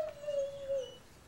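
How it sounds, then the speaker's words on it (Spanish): A chihuahua whimpering in one drawn-out, high, thin whine lasting about a second, close and fairly clear against a quiet background, with no talking over it. "eso es un chihuahua"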